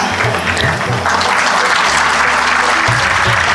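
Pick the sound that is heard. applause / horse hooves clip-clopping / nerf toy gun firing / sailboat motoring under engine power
applause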